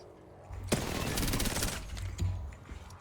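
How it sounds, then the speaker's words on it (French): Rapid gunfire in the battle royale shooter Apex Legends, a loud sustained volley of shots starting sharply then trailing off, with a few later bursts and faint game voice lines around it. "On tire dessus."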